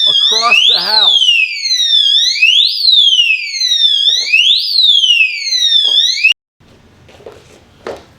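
A refrigerator door alarm loud enough to carry across a house sounds a piercing, repeating electronic warble in rising and falling sweeps for about six seconds, then cuts off, followed by faint handling noises.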